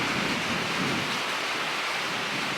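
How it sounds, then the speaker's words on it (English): Gentle rain falls outdoors as a broad, even hiss of drops that stays loud and unbroken throughout, with no voices. "it's a little bit more gentle rain."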